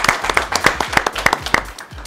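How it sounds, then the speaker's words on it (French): A small studio audience at a French general-knowledge quiz show claps in a brief, rhythmic burst, close and fairly loud, lasting about two seconds. "On applaudit Anne-Marie."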